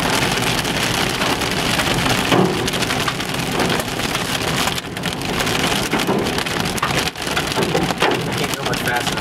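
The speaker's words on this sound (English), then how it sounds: "Look at the hail bounce, man." Hail pelts a car during a storm chase in the Mississippi Delta in March 2013, a loud, continuous clatter of dense hard ticks and thumps on the body, with excited voices talking over it.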